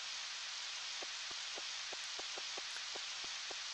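Rain falls steadily in the farming video game Harvest Moon 64, a soft constant hiss with a string of small, evenly spaced droplet taps layered on top.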